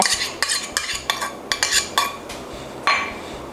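Wasabi cream sauce of whipped cream, wasabi, sake, mirin, yogurt, soy sauce and pepper stirred in a bowl, a series of sharp scraping clinks in irregular strokes, close and clear with no talking.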